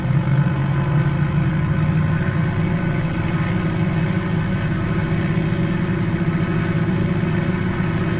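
An Edgley Optica light aircraft engine in Microsoft Flight Simulator runs at full throttle around 2,100 RPM, a loud steady drone with a low pulsing hum, constant throughout and unbroken by talk.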